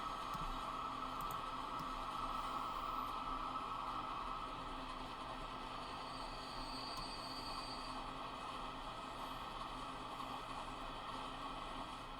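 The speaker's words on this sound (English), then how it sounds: "That other train's already picking up iron." A train runs on rails in the Transport Fever 2 game with a continuous, even rumble and clatter of wheels at moderate distance, and a thin squeal rises briefly midway through.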